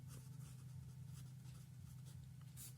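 Pen or chalk strokes scratch in short, quiet bursts while working through a physics derivation, faint over a low constant background hum, with no talking.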